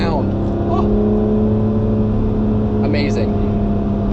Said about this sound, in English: I just want to hear that engine revving all day long